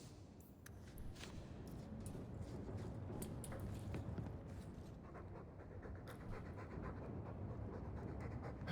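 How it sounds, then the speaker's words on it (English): A dog pants in a video game, a quiet, steady run of quick breaths that keeps going with no pauses and no talking. "All that noisy dog breath, day in, day out."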